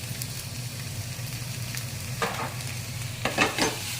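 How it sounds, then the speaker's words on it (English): Balsamic vinegar sprinkled into a hot frying pan of chorizo and chicken, a steady close sizzle with a few brighter crackling bursts near the end, no talk. "We're just gonna put a little sprinkle of balsamic right on in there."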